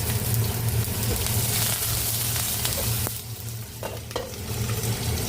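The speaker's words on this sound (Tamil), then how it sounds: "பூண்டு பச்சை மிளகாய் போட்டாச்சு. இது நல்லா பொரியட்டும். கொஞ்சம் கருவேப்பிலை போட்டுக்கலாம்." Garlic, green chilli and curry leaves fry in a pan, a steady loud close sizzle and crackle with a little stirring, no talk.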